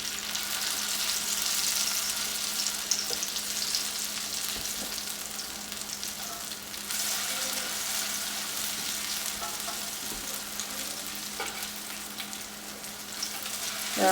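Potato pancakes made from leftover mashed potatoes fry in a pan with a steady, moderately loud sizzling hiss, broken by occasional faint clicks and a brief louder sputter near the end, no talk.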